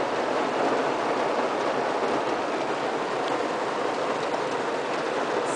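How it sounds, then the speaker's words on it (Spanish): Rain falling steadily, a loud, even hiss that carries unbroken throughout. "Está lloviendo. Está lloviendo."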